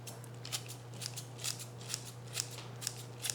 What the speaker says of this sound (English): we're just gonna use the herb scissors